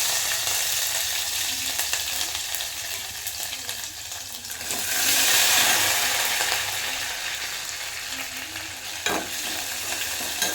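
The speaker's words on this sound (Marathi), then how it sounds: "आता आपण हे ठेसलेलं आलं लसूण मिरची हे सगळं टाकायचं" Crushed ginger, garlic and green chili hit hot oil with curry leaves in a pan, giving a steady frying sizzle that swells louder midway, with occasional stirring clinks and no speech.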